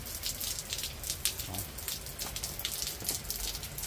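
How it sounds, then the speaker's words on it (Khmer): Steady rain falls and patters on a surface, with scattered louder drops hitting nearby throughout. "ឡូវភ្លៀងរហូតទៀត"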